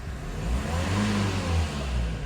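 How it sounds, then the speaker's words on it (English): A Nissan Qashqai 1.5 dCi diesel engine, just fitted with a replacement EGR valve, revs steadily in a continuous, close mid-pitched drone that swells slightly, with no talking. "And it's allowing me to rev."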